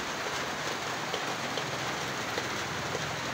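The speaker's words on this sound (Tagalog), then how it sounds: "Ulan po yan, ulan." Steady rain hisses down in a dense, even wash of patter, with no voices.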